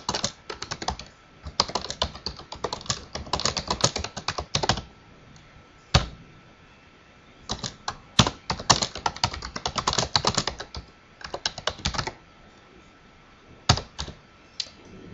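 Typing on a computer keyboard while filling in a helpdesk support ticket form, with bursts of rapid close key clicks separated by short pauses and a few sharper single keystrokes.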